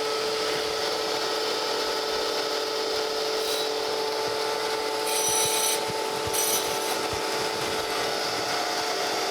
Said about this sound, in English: I'm going to go ahead and redress my wheel while I'm right here at it.